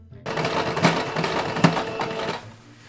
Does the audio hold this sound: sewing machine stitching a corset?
yes